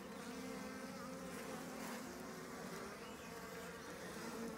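Honey bees buzzing around an open hive during queen installation, a steady, dense drone of many wings heard close up and continuous throughout, with no talk.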